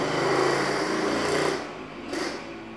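A motorcycle engine buzzes loudly nearby, then fades halfway through and swells briefly again as it moves off.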